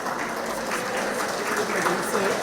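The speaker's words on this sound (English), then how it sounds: "Give her a round of applause." An audience at a community meeting in Pleasantville, San Fernando gives a steady, dense round of applause that fills the room, with voices mixed in.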